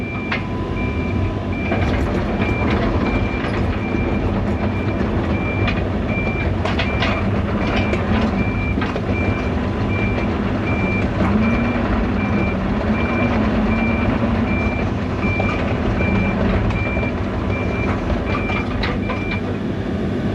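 A heavy machine blading out a ditch, its diesel engine rumbling and rattling steadily and close throughout while a reversing alarm beeps in a regular repeating pattern.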